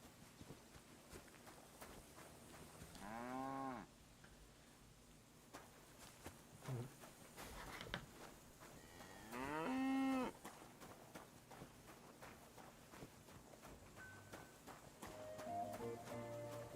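Cattle mooing in a video game: two long, drawn-out moos, moderately close, over soft footsteps and quiet ambient game sound.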